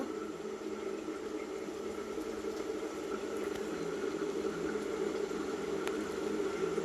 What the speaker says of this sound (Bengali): তেলটা ভালো করে একদম গরম হয়ে গেছে এবার আমরা এখানে মগলাইটা দিয়ে দিয়েছি